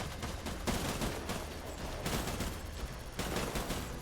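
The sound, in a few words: gunfire in a video game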